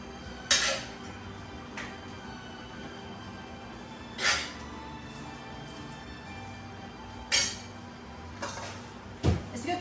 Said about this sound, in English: stuff the peppers.